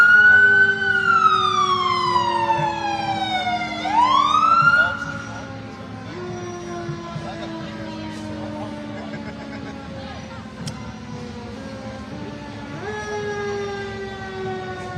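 Charleston Fire Department fire truck siren wailing loudly at a Christmas parade, a rising and falling tone sweeping up and down for several seconds before fading into lower engine rumble and crowd noise.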